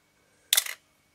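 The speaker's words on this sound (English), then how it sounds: "And then if I press the shutter button, it works." Olympus OM20 film camera shutter released by pressing the button, the film advance lever having been stuck: a single crisp mechanical click-clack, close and sharp, alone in quiet.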